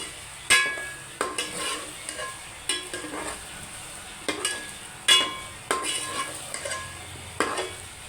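Chicken and onions frying in a pan for a Chicken Tori curry, with a sizzling hiss beneath repeated sharp scraping stirs of a spoon against the pan, about a dozen strokes at an irregular rhythm, close up and without talk.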